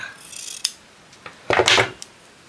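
Scissors snipping a small piece of paper while making a snippet roll, a couple of close crisp cuts with a soft rustle between, brief and isolated with no talking.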